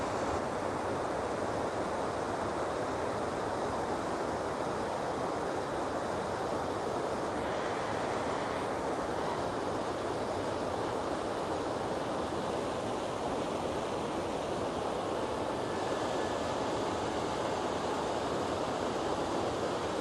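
Water rushes in a steady, unbroken wash of broadband noise from a river flowing nearby at Glen Sligachan, Isle of Skye, with no voices and little change throughout.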